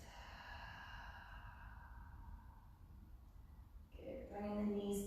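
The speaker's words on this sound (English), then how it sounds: "Exhale through the mouth." A slow, soft breath pushed out through the mouth during a core yoga sequence, a long gentle airy exhale in a quiet room, followed by a voice.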